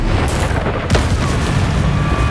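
A Confringo blasting spell explodes in Hogwarts Legacy, a loud deep boom with a sharp crack near the one-second mark over a constant, heavy rumble.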